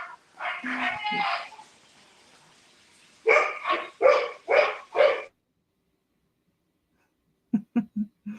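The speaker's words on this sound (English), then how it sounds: "Sorry, that was my dog." A dog barks in a quick burst of four or five loud, close barks, followed after a pause by a few shorter barks near the end, with talk beforehand.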